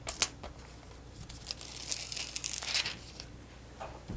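A foil transfer sheet being peeled off a freshly foiled card, giving a continuous close crinkling and tearing crackle for about four seconds, with no talk.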